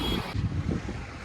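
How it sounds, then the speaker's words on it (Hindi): Cold sea wind blows along a beachside walkway in Port Blair in the Andaman Islands, a brief gusty rumble buffeting the microphone with uneven low swells. "ठंडी ठंडी हवाएं के साथ चल रहा हूँ।"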